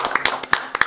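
A handful of sharp, separate hand claps ring out from an audience at a Sonam Lhochhar community cultural programme in Nepal, close and uneven over about a second, with a hint of voices between them.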